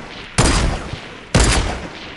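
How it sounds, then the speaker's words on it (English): Two heavy gunshots in a video game shooter, each a sharp loud blast followed by a brief decaying tail, spaced about a second apart. "Who's shooting us?"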